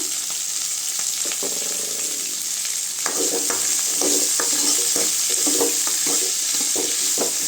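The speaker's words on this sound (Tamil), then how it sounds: "நல்லா வெங்காயம் வதங்கணுங்க" Onions with rock salt sautéing in an oil-filled pan for a potato kurma, stirred with a spoon: a steady close sizzle runs throughout, with scraping stir strokes growing busier and more rhythmic in the second half.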